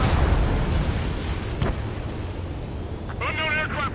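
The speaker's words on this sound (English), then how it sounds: "Missile hit." Missile impact explosion in a video game: a loud boom at the start decays into a rolling rumble, then a voice speaks near the end.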